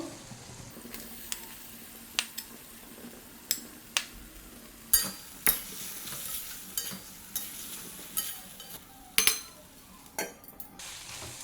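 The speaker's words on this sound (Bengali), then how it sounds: "এবার আমি আলুটা একটু এই মশলার সাথে ভেজে নেব" Potatoes fry in oily spice paste for a Bengali fish curry with aubergine, a soft steady sizzle broken by repeated scraping clinks of a spatula stirring against the pan, fairly quiet and without talk.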